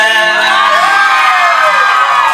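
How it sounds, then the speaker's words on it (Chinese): A large outdoor concert crowd in Taoyuan roars with sustained cheering, screaming and whooping, loud and continuous, with no gaps. "谢谢你们，给自己掌声加尖叫声。"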